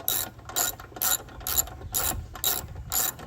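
A ratchet clicks in a steady rapid rhythm while loosening a bolt on a Briggs and Stratton lawn mower, with bursts of sharp metallic ticks repeating about twice a second, close up over a low background hum.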